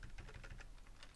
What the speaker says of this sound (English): the reason you're hearing me hammering away on my keyboard